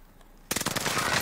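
A rapid burst of automatic gunfire in a battle royale video game erupts abruptly after a brief quiet moment and continues loud and close to the end.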